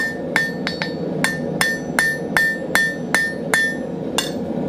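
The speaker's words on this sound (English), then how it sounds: "anywhere where I see a corner, I'm hammering that back in" Sharp metallic hammer strikes ring out in a steady rhythm, about a dozen blows, each with a bright clang off an anvil as steel corners are forged back in.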